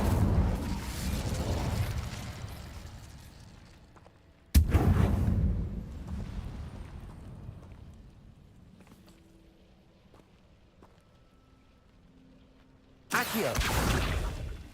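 Incendio fire spell cast in Hogwarts Legacy: a loud burst with a sharp onset that fades over several seconds, followed by quieter clicks and a long low hum, then another sudden loud rush of sound at the end.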